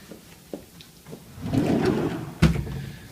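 A drawer in an on-campus apartment sliding open, a soft scraping rumble building into a brief wooden knock, followed by a sharp thud near the end, close and fairly loud in a quiet room.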